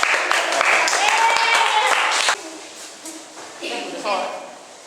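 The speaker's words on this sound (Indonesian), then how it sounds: "Tepuk tangan buat saya dong bilang." Clapping from a stand-up comedy audience, a dense burst for a little over two seconds that cuts off abruptly, followed by quieter crowd murmur and voices.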